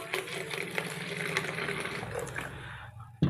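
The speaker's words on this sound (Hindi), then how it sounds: "उसे थोड़ा सा पानी उसमें डाल के आप पहले मिक्स कर दीजिए उसे।" Plain water pours into a thick white phenyl mixture, a steady broadband gush of liquid running for about three seconds before a brief louder knock near the end.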